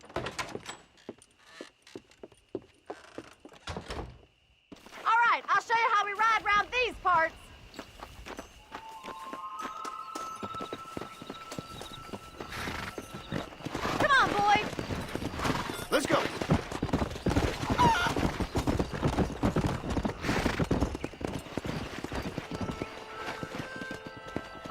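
Horses in a race in the video game Red Dead Redemption, with rapid hoofbeat clatter building into a steady gallop, along with game speech, a neigh and swelling music.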